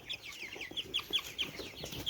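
Chickens cluck in a short run of soft, repeated calls, moderately close and fairly quiet, with no talk over them.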